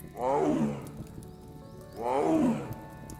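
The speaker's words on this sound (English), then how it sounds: "It is the call of a tiger." A tiger roars twice, two deep drawn-out calls about two seconds apart, loud and fairly close.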